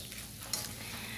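Tofu skin sizzles steadily as it fries in fish sauce in a pan, a dense close hiss with a brief stirring clatter partway through and no voices.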